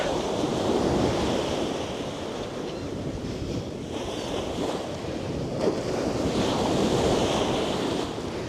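Winter sea waves wash against Langeron beach in Odesa, a continuous broad roar of surf with gusty wind buffeting the microphone, rising and falling in slow swells.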